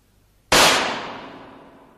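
Single sharp pistol gunshot from a German radio drama, a loud close crack after brief silence with a long reverberant decay trailing off over more than a second.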